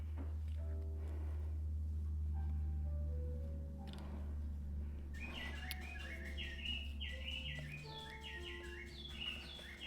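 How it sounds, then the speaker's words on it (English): Chirps and tweets from a pet bird in a home kitchen, several bright repeated calls in the second half over a steady low hum from an appliance, with some clatter early on. "Hear my birdie?"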